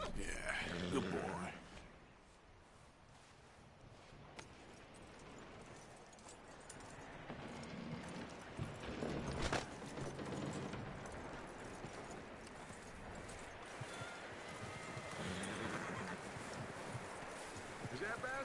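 Horse hooves clip-clop in Red Dead Redemption 2, a steady trotting rhythm at moderate level with rustling around it and a voice talking over parts of the game scene.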